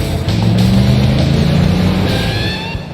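A 2022 Chevy Silverado ZR2 off-road pickup with a 6.2-liter V8 and stock exhaust rumbles steadily up close, a deep low drone that holds for a few seconds and eases off slightly at the end.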